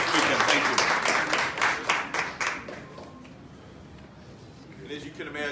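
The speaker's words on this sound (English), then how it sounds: "So one more round of applause for these two" A crowd at a school event with the Chicago mayor gives a burst of applause, dense clapping that fades into quieter scattered claps.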